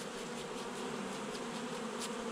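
Honeybees buzz in a dense, steady swarm throughout a honey harvest on a summer day, a continuous close drone with no one talking.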